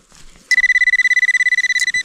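A metal detector gives a loud, steady, rapidly pulsing electronic beep that lasts about a second and a half and then cuts off, heard against quiet outdoor background.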